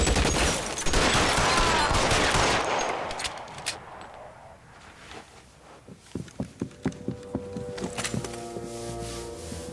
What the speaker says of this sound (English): Where's the guy with the Tommy gun?